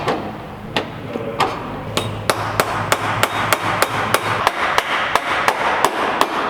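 An axle shaft is hammered into a Toyota Corolla manual transmission: a steady run of sharp metallic hammer blows, roughly three per second, close and loud, continuing for several seconds without talk.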